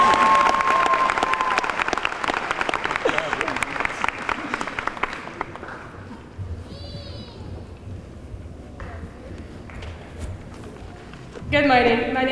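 A high school graduation crowd at a 2017 ceremony claps loudly for the first several seconds, then the applause fades into quieter room noise with murmuring and a brief burst of sound near the end.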